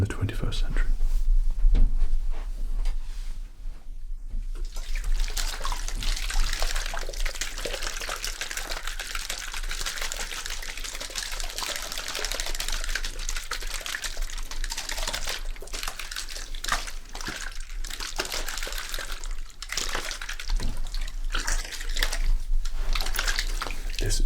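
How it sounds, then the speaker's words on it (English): Hair tonic mixed with water is sprayed onto hair during a barbershop-style haircut, a steady hissing mist running for most of the stretch after a brief pause, close and continuous with soft whispering over it. "this is a concoction of our hair tonic and water here to stimulate your hair as well as getting necessarily wet for your cut"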